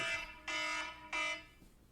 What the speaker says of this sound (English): that's Jennifer's alarm